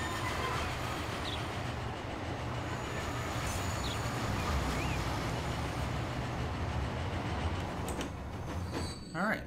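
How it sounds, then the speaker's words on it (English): Trains rolling continuously through a rail corridor in the Transport Fever video game, a dense rumble of wheels and cars with faint squealing, heard alone without talk. "Just trains constantly going through this corridor."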